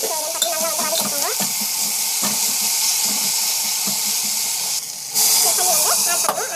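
Potatoes sauté in a pan with homemade chili powder and spices, giving a steady close-up sizzle. Repeated scraping stir strokes run through the frying.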